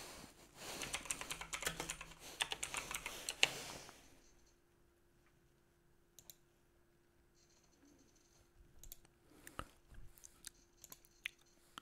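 Computer keyboard keys clatter in a quick burst of close typing for about four seconds, then give way to near silence broken by a few isolated clicks.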